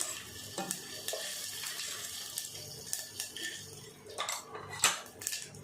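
Mustard seeds, cumin and lentils tempering in a pan make a quiet crackle beneath clattering utensils and metal clinks, with a few sharper knocks toward the end.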